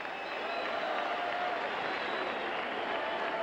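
A Fenway Park baseball crowd on its feet in the top of the ninth, Blue Jays at Red Sox, a steady dense roar of cheering and applause, distant and continuous throughout.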